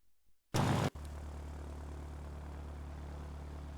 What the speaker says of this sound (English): It's a big old plane.